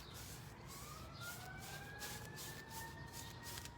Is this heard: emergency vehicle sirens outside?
yes